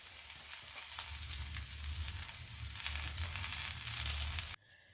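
Masala dosa potato stuffing sizzles steadily as it is fried and stirred in a pan. The frying sounds close and constant, with no talk, and it cuts off abruptly near the end.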